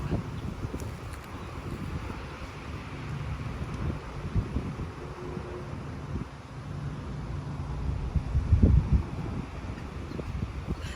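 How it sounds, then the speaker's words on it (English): Strong outdoor wind blows steadily into the microphone as a constant rumbling rush, with a few brief gusts and rustles, no talking. "it's windy as fuck out here"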